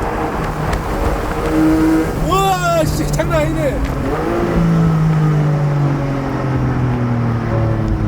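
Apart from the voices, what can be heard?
Porsche Boxster 4.0 GTS six-cylinder boxer engine exhaust revving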